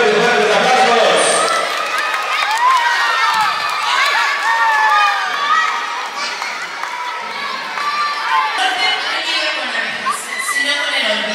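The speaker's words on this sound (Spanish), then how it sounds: "Fuertes, fuertes aplausos." Schoolchildren and families at a Day of the Dead altar event cheer, shout and clap together in a loud, continuous crowd roar with excited voices throughout.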